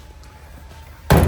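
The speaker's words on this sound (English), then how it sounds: "But if we swing the door shut" A single loud slam near the end, a Maserati Indy car door swung shut with a solid thud after a quiet stretch, in a metal shop.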